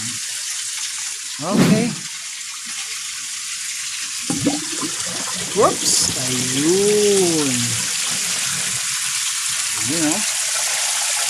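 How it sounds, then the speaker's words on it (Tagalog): Pond pump pushing a steady rush of water through a DIY koi pond mechanical filter. The flow stays continuous and fairly loud throughout, with brief exclamations from a man over it. "Malakas pa rin talaga yung pump kasi nag-build up pa rin ng tubig dito."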